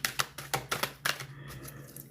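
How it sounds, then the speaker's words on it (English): Tarot cards shuffled by hand, about six sharp riffling bursts in a fairly regular rhythm close up, then fading into quieter rustling, over a low background hum. "I'm just gonna shuffle."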